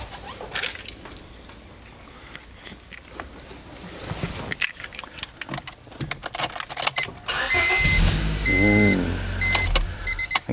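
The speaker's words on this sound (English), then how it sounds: "let's make sure the car starts." A 2000s Honda Civic Si EM1 with a newly fitted Antigravity lithium battery cranks briefly and fires up, then settles into a steady idle, loud and close, after some handling noises.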